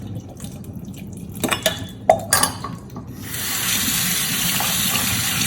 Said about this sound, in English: another thing we must do is to drain our beans